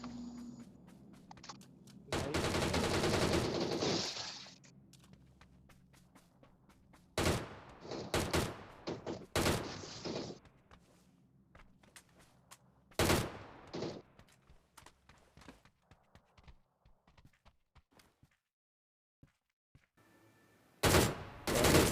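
Gunfire from a DP light machine gun in the mobile shooter PUBG New State: a few loud, separate bursts of automatic fire spaced apart, with quieter clicks and footstep-like sounds between them and no talk.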